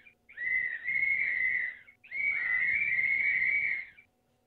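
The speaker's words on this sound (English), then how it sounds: "So they listen to the whistle." Two long, steady whistle blasts in the video game Survival Craft 2, each about a second and a half, clear and fairly loud with a short pause between.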